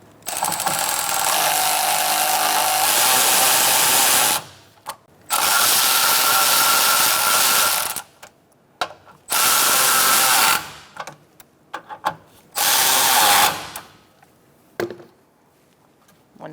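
Power tool tightening bolts on a radiator being installed in a 2014-2019 Kia Soul 1.6L L4, sounding in four loud ratcheting bursts of several seconds each with short quiet gaps between them.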